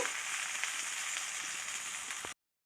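Sankara fish fries in a shallow film of oil, giving a steady close-up sizzle and crackle with occasional pops that continues evenly, then cuts off abruptly.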